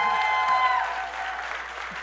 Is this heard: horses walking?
no